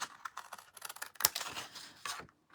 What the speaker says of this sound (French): On coupe sur ces plis-là.